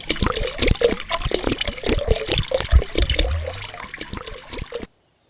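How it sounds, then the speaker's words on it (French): Water pours into a container in a home garage, a steady splashing trickle filling it over about five seconds, close and fairly loud, ending abruptly. "on va mettre de l'eau aussi là-dedans"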